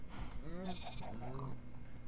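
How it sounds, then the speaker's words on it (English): A gray sheep bleating in Minecraft, a few wavering bleats in quick succession, close and clear, overlapping faint talk in the background. "this gray sheep is the one from the beginning"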